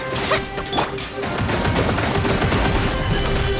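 Rapid bursts of video game gunfire crackle continuously, dense and loud, with sharp impacts and crashes layered in a chaotic, sustained barrage.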